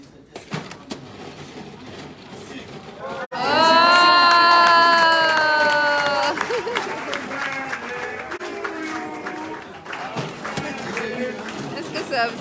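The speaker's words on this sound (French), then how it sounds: "Vous allez applaudir Frédéric" A crowd at a gathering with Samuel Eto'o bursts into loud cheering and applause after a brief quieter stretch, shouts and a whistle rising over the clapping, which then fades into chatter.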